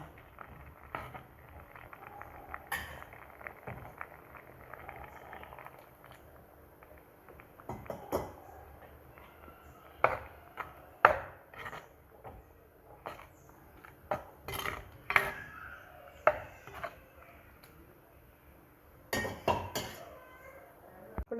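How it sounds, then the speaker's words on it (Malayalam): Dried shark, raw mango and green plantain curry being stirred in a pot, with scattered metallic scrapes and clinks of a spoon against the pot, sparse at first and then more frequent, close and fairly quiet. "ഇനി നന്നായിട്ട് ഒന്ന് ഇളക്കി കൊടുക്കാം"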